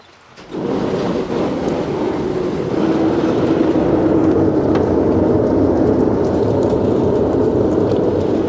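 Rain and a thunderstorm over a Tennessee farm. After a quiet start, a loud, steady roar of heavy rain with deep rolling thunder rises and holds close and continuous.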